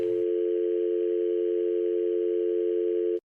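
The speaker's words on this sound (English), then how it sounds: "You love that dial tone." A telephone dial tone hums steadily and loudly for about three seconds, starting just after a brief click and cutting off abruptly at the end.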